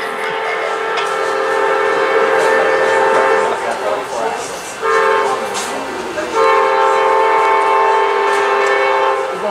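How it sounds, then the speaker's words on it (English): An Amtrak passenger train pulls into Selma Smithfield station, its horn sounding in long, loud blasts with a brief break between them over rumbling rail noise, with a voice faintly in the background. "We're making the train stop here in the Selma Smithfield train station, running about 15 minutes late."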